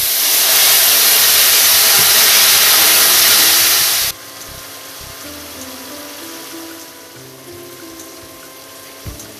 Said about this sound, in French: J'ajoute 5 cl d'eau chaude.